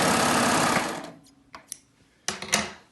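A serger stitches fabric using its differential feed, giving a loud fast whirring burst that winds down and stops, followed by a few short clicks and a brief second run near the end.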